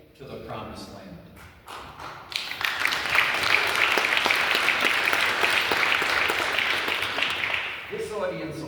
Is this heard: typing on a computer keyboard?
no